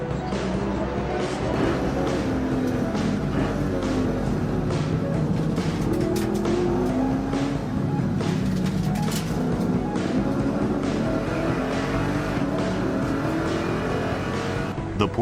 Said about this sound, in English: The Lexus ISF with Kazunori Yamauchi at the wheel made its start